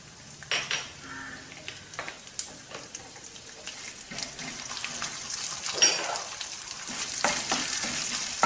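Toor dal and urad dal frying in hot oil until brown, soft sizzling with scattered clinks and scraping of a spoon stirring in a pan, fairly quiet and close.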